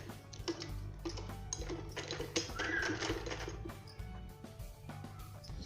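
A sewing machine stitches blouse fabric in short ticking runs, a quiet mechanical clatter that starts and stops in bursts against a faint background hum.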